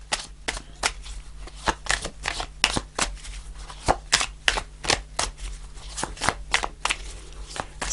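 Tarot cards are shuffled and drawn by hand, a run of crisp snapping riffles and flicks in an uneven rhythm, close and fairly loud, with no talk.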